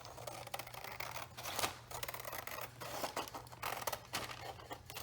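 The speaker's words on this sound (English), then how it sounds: "I trim off this edge. Sometimes I use my cutter, but in this case I'm gonna go ahead and just use my scissors" Scissors snip along the edge of a paper security envelope while trimming it to a straight line for handmade journal tags, a close run of crisp cuts with paper rustle, no talking.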